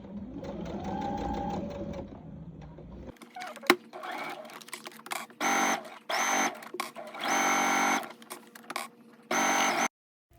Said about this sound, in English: Take it to your sewing machine and stitch the collar to the vest